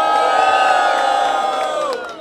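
A crowd at a street rap battle in Rocinha roars with cheering and shouting, a dense, loud burst of voices that holds for about two seconds and then cuts off.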